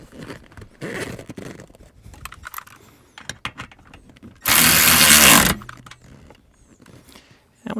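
Power tool tightening rear seat bolts on a GM OBS Chevy or GMC SUV truck, one loud sustained buzzing run of about a second close by, amid softer clicks and handling noise.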